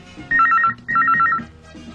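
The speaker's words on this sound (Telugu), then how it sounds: "అమ్మా రింగ్ అవుతోంది" A telephone rings with two trilling bursts of a warbling electronic bell, loud and close, separated by a short pause.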